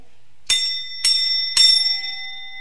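Three clear, bright bell strikes about half a second apart, each ringing on with a sustained metallic tone over a quiet background.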